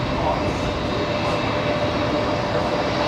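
An Emirates airliner moves at Brisbane Airport at night, its engines a broad, steady roar heard continuously at a moderate distance, with voices talking over it.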